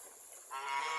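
A goose, one of a flock kept beside an irrigation channel, gives a single faint nasal honk after a quiet, hissy moment, with no talking.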